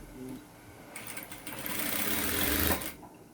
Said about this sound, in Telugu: లైనింగ్ మీద కుట్టు అనేది వేయాలి